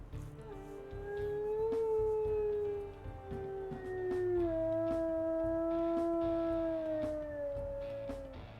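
A wolf howls in WolfQuest Anniversary Edition, giving long sustained wavering howls that rise and fall over a low game ambience, loud and close, with no speech.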